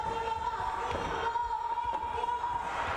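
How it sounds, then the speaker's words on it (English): A basketball arena crowd chants for Indonesia during a FIBA Asia Cup 2025 qualifier against Australia, a faint rhythmic roar in the background beneath a sustained tone. "The chants for Indonesia in the background."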